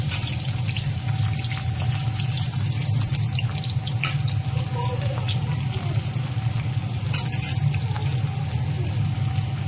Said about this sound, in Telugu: ఇలా పొడవుగా చిరుకలు చేసుకున్న ఆనియన్స్ని వేసి దోరగా ఫ్రై చేయాలి.